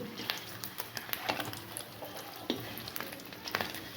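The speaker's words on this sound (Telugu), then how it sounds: "ఎగ్స్ చాలా బాగా ఫ్రై అయ్యాయి" Eggs frying in a pan, heard as a quiet crackling sizzle with scattered pops and light taps, close but faint.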